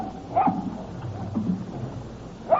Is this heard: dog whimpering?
yes